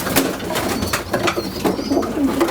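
Racing pigeons coo in a loft, several soft throaty calls overlapping at close range with a little rustling and faint wing movement, no talking.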